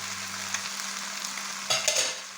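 Garlic and carrots frying in a pan while being stirred, a soft close sizzle with a few brief scraping stir sounds near the end, no voices.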